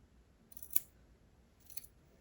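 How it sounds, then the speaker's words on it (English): Scissors trimming fabric to make fringe, two quiet crisp snips about a second apart, close up, in near silence. "one of the funnest things in the world is trimming"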